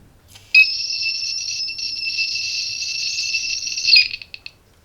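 A gas detector's shrill electronic buzzer sounds continuously for about three and a half seconds, then stutters off in a few short beeps, loud and close in a quiet room.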